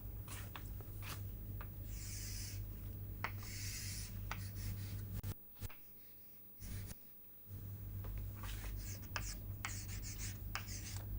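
Marker or chalk scrapes across a classroom board in short strokes while a curve is drawn during an aerospace fluid-instability lecture, rhythmic rubbing over a steady low hum, with a brief pause partway through.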